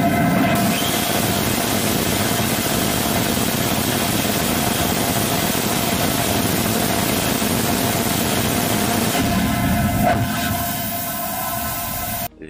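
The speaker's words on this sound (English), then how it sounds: "This is full-scale 3D printed rotating detonation rocket engine." Full-scale 3D printed rotating detonation rocket engine static test firing at a NASA test stand, a loud steady roar with constant broadband rumble and tonal hum, sustained alone before cutting off abruptly at the end.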